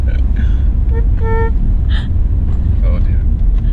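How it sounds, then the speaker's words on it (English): A car horn gives a short, light toot over a loud, steady engine rumble, with people talking around it. "It's a friendly horn."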